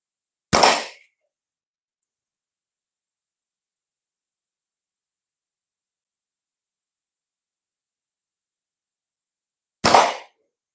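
Two loud, sharp gunshots fired at a paper target, spaced about nine seconds apart with silence between them, each a single close crack with a short decay.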